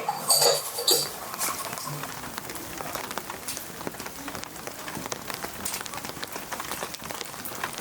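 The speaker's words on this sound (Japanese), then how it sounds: "朝パラパラだった雨が大雨になってしまいました。" Heavy rain with large drops patters densely on surfaces in an old post town on the Nakasendo trail in autumn, with a few clinks of tableware early on and a steady, close drumming throughout.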